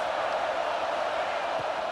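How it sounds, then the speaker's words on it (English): Stadium crowd in the College Football 26 video game roars as a steady, dense wash of cheering and noise, moderately loud and continuous with no distinct voices standing out. "The roar of the crowd trying to fuel this defense to keep them pinned in their own end."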